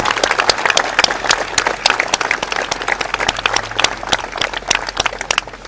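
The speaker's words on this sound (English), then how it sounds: "Let's give Cisco a big round of applause." An audience at a Paramount Pictures event honoring heroes claps for the lunch sponsor Cisco, producing loud, dense applause that runs steadily throughout with scattered sharp individual claps.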